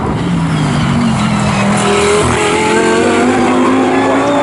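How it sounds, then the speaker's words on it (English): Ginetta GT race cars roar across the finish line at Snetterton circuit, loud continuous engine drone with rising and shifting pitch as they pass close by. "2 Ginettas crossing the line there"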